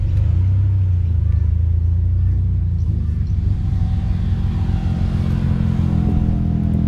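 A Datsun car rolls in to park at an all-Japanese classic car day, its engine a deep, loud, close rumble that idles steadily and eases slightly toward the end.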